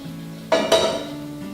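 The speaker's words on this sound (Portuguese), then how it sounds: "com a mistura que eu fiz anteriormente, eu vou jogar nessa água aqui também" Dye mixture poured into a pot of boiling water while dyeing a capoeira rope, heard as two short splashing, clattering bursts against the metal pot, close and fairly loud, with a low steady hum of the boil around them.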